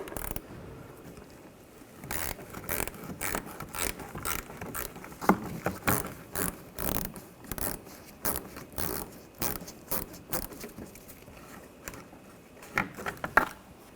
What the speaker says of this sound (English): a Phillips head screwdriver bit, and a ratchet. Take these screws out.